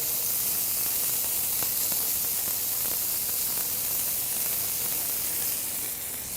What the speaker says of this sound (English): That beef and fat hitting the hot griddle.